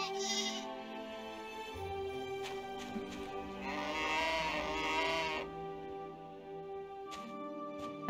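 Sheep bleat in the farming video game My Time at Portia, a long wavering bleat in the middle with shorter calls around it, set against steady game music.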